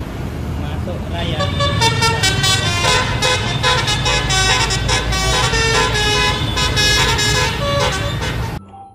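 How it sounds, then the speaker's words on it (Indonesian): A Raya bus passes close by, sounding a loud, sustained musical horn melody over engine rumble, with the tones continuing before cutting off abruptly near the end. "wah kali ini ada bus Raya teman-teman"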